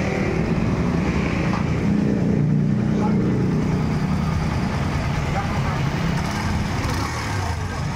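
A Kawasaki Barako III fuel-injected motorcycle engine runs steadily at idle, close and loud, with a smooth continuous rumble and no words spoken over it.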